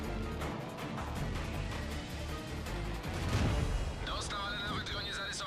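Tank cannon fire in World of Tanks, a Type 2597 Chi-Ha / T-28, with dull booming shots and rumbling battle noise under someone talking throughout, plus a brief higher whine near the end.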